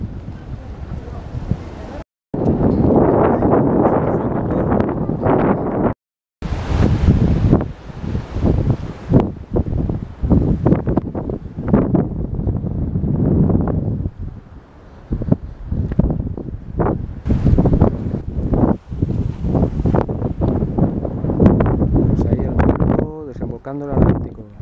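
Gusty wind buffets the microphone near open Atlantic surf at the mouth of the Douro River in Porto, a loud, rough roar with brief cutouts, while someone talks over it throughout.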